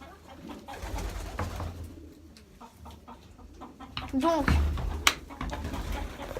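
Pigeons coo quietly in a backyard loft, a few soft low calls and some fluttering beneath a voice talking near the mic.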